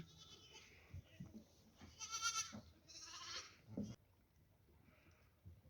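Young lambs bleat several times while playing in a pen on a foggy winter day, the calls mid-distance and separated by quiet rustling, with no talking.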